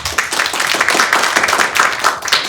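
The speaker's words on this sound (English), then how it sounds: "a big round of applause for our panelists" A symposium audience claps for a panel of speakers, a loud, continuous patter of many hands that carries evenly throughout without any talking.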